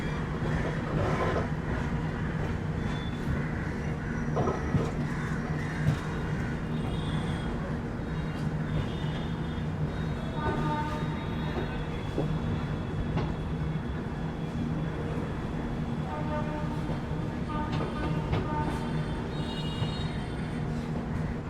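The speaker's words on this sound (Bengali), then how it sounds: "ট্রেন তো আমাদের নির্দিষ্ট সময় ছেড়ে দিল হাওড়া থেকে পুরীর উদ্দেশ্যে।" The Howrah-Puri Shatabdi Express running on its route from Howrah to Puri, heard from inside a coach as a steady rumbling roar with rhythmic rattles and occasional clanks throughout, with faint voices in the background.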